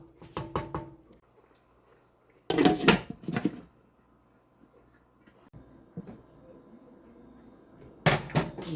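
Kitchen clatter of a metal pot and lid being handled as rice cooks on a stovetop, with sharp clanks in short bursts near the start, middle and end, separated by quiet stretches.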